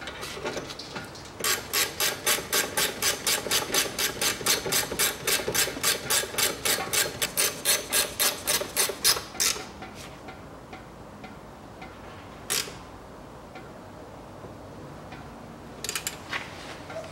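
A ratchet wrench tightens the rear brake hose fitting on a 1998 Toyota Mark II JZX101, a long run of rapid, even metallic clicks, close and loud, followed by a few isolated clicks.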